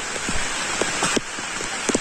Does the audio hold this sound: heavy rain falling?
yes